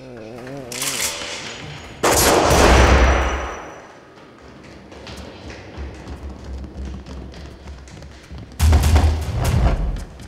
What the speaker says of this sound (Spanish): El atacante Gutorov fue neutralizado tras el disparo contra el policía Burlakov.